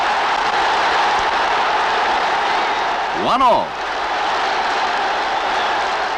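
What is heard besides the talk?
football crowd cheering after Forest's equaliser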